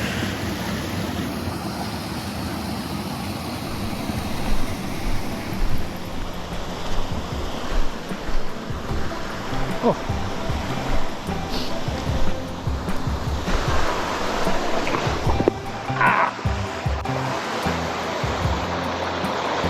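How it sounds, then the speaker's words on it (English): A waterfall pours in a steady, loud rush of water, with broad noise filling the whole clip and slight surges, heard close by on a hot day. "There's a waterfall."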